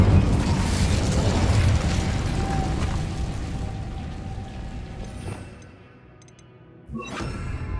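Incendio fire spell cast in Hogwarts Legacy on PS5 in the Forbidden Forest, a loud roaring burst of flame that swells and fades, followed by a brief quiet and then another sharp whooshing hit.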